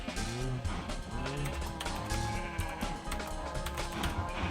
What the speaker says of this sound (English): Cows and sheep.